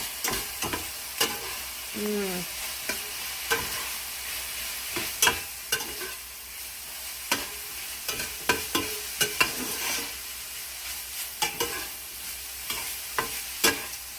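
Sausage pasta sauce is stirred in a frying pan, with a steady sizzle under repeated scraping and clicking strokes of the utensil against the pan at an irregular rhythm, close and moderately loud.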